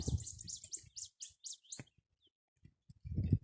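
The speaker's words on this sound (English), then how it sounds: "I love those bird noises." Small birds chirp in a quick series of high tweets near a cornfield in Mexico, then fall silent before faint low rustling returns.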